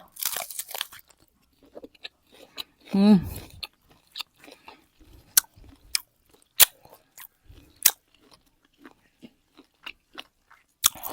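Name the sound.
chewing meat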